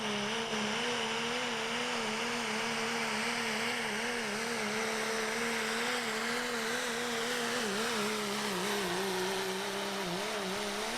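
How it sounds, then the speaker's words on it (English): Dodge diesel pulling truck sponsored by Sander Concrete screams at high RPM down a truck pull track in Fishersville, Virginia, a loud sustained engine roar with wavering pitch, no talk over it. "he got in it quick and was turning a ton of RPMs down the track"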